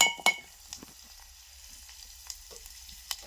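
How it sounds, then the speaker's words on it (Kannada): Onions frying in a pan give a quiet background sizzle broken by sharp, scattered pops and crackles close by. No one speaks. "ಈಗ ನೋಡ್ರಿ ಉಳ್ಳಾಗಡ್ಡಿ ಈ ರೀತಿ ಫ್ರೈ ಆಗ್ಯಾವ"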